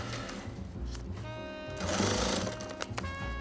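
A sewing machine stitches a fabric koozie and then backstitches, giving close, moderate mechanical whirring and rattling that shifts in pitch and intensity as the stitching direction changes.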